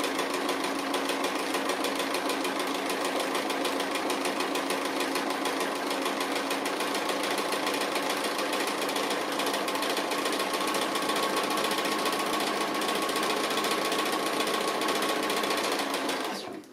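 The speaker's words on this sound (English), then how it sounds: "a straight stitch but free motion, just on the applique but close to the edge" A sewing machine runs continuously up close, free-motion straight stitching along the edge of a fabric applique with a fast, even mechanical whir and rapid needle ticking that stops abruptly at the end.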